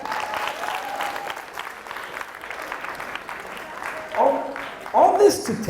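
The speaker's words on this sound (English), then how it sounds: "Give a round of applause." Steady applause from a high school audience during a youth motivation talk, moderately loud and sustained across the whole stretch, with a voice breaking in near the end.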